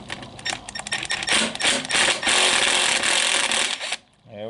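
A ratcheting wrench works a double-nutted stud off a Jeep CJ's Carter BBD carburetor base with dense, rapid, close clicking and rattling for about four seconds before stopping abruptly.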